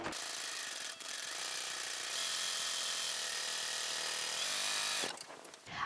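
A serger sewing machine stitches ribbon through a binder attachment in a steady, loud mechanical whir lasting several seconds, starting and stopping abruptly, with no talk.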